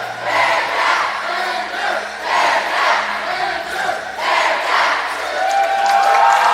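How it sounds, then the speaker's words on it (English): A crowd cheers and shouts in rolling swells at an acrobatics and tumbling conference final, with dads up front among the spectators, steady and loud for several seconds. "Lander dads ready to cheer."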